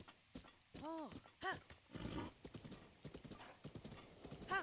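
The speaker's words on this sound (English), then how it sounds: "This horse is feisty." Clip-clop of horse hooves with a couple of whinnies and snorts in The Legend of Zelda: Breath of the Wild, fairly close, game-like and rhythmic over several seconds.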